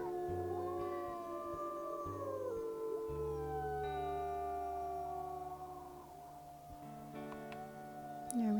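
Several wolves in the WolfQuest video game howl together, long gliding and overlapping howls rising and falling in pitch over a low sustained game soundtrack, clear and prominent throughout.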